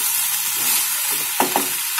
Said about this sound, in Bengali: আলুটা একটু ভাজা ভাজা হলে এরপর আমি তার মধ্যে দিয়ে দেব কড়াইশুঁটি।